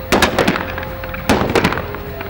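Live ammunition fired during a street clash where stones are thrown against bullets, two sharp loud cracking shots each followed by quick echoing reports, about a second apart.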